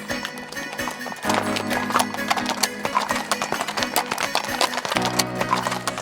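Horses walk slowly along a mountain trail, their hooves clip-clopping in a steady rhythm close by, with jingling tack, a faint whinny and a low hum underneath.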